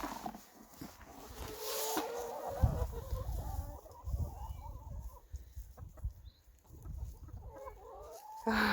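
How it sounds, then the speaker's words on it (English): Farm chickens foraging for bugs give scattered, close clucks and low murmuring calls, some louder bursts among quieter chatter outdoors. "Now chickens, I just need to learn you up so that you actually go and dig up all the weeds"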